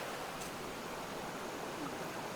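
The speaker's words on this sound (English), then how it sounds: "the canal actually breaks into this, looks like a waterfall that goes down into the Lehigh" Water from a canal along the Lehigh River in Jim Thorpe, Pennsylvania, spills down like a small waterfall, making a faint, steady, even rush of broadband noise with no voices.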